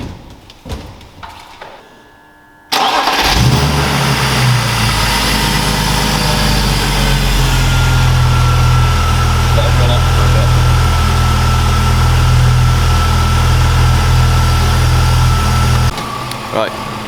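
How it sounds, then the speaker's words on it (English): A BMW E46 engine cranks and catches after some quiet clicks and handling noise, then settles into a loud, steady idle close by that runs on for over ten seconds before dipping slightly at the end. "Right, car is running."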